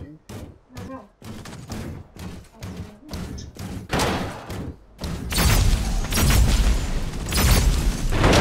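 Gunfire in the mobile battle game Super Mecha Champions, sharp repeated shots and thudding booms that build into a loud, sustained barrage of rapid fire and blasts.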